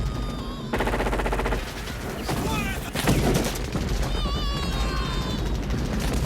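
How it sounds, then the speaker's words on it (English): Rapid bursts of gunfire and heavy booms crack through a loud action soundtrack from the movie Predator, with music and shouting voices mixed in. "it just ends in a rain of gunfire and explosions"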